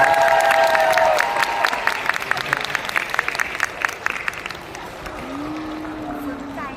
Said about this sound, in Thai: ขอเสียงปรบมือนิดนึงได้ไหมครับ